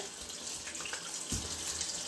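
Tap water runs steadily over a tool being rinsed of facial gel during a home spa skincare routine, a continuous close splashing flow with no speech.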